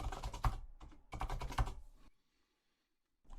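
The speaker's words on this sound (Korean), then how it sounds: "로그인에 사용할 패스워드 입력해 주시고요" Quick bursts of key presses come from a computer keyboard as a password is entered, two close clusters of clicks, then a pause and one more faint tap.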